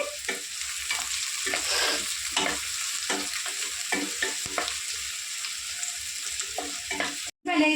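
Green chillies frying in oil for gongura chicken curry, a steady close sizzle with scraping stirs of a spatula against the pan recurring throughout, ending in a brief gap and a sharp clatter.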